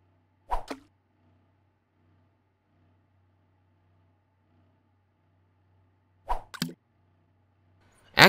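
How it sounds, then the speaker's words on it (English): Ingredients dropping into a pot in the Cooking Simulator video game give short hollow plonks, a quick pair near the start, another pair later, and one more at the end, separated by near silence. "as long as there's like a plonk sound"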